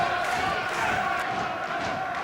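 A boxing crowd in an arena roars and cheers continuously, trying to lift their fighter, as a dense, sustained wash of voices at moderate distance.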